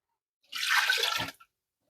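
Apple cider vinegar, one cup, poured into a pot of sugar for pineapple cowboy candy: a single steady liquid pour of about one second, fairly close and clear, with a brief trickle as it ends and no talking.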